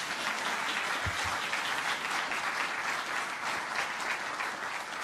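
Audience applause at a public workshop meeting, a steady dense wash of clapping from a crowd filling the room at even loudness throughout, with no speech over it.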